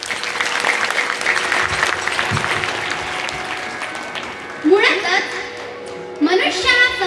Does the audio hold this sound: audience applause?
yes